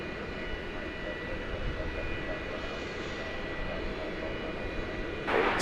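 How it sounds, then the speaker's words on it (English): An aircraft at DFW Airport rumbles in a steady distant engine roar as planes line up for takeoff, a broad continuous drone with a brief louder rush at the end. "All sorts of aircraft are lined up to take off now."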